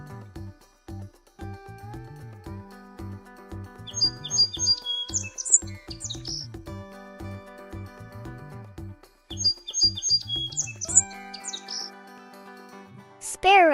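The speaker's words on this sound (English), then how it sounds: "Sparrow," A sparrow chirps in two clusters of quick, high, twittering notes set against steady instrumental music, ending with a brief rising sweep.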